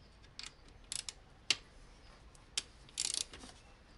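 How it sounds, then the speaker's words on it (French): Several short, crisp clicks from a ratchet tightening an ignition coil on a Mazda RX8, spaced irregularly with a quick burst of clicks near the end, close and fairly quiet. "On prend le cliquet."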